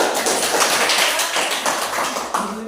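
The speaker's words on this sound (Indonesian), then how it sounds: "Kita berikan aplaus." A classroom group applauds after a presentation, a dense, steady patter of many hands clapping together for a few seconds.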